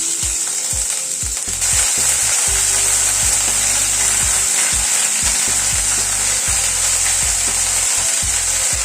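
Mustard seeds crackling in hot oil with ginger paste stirred in, a steady bright sizzle running throughout with repeated low knocks and scrapes of a utensil against the pan, close and loud, no talking.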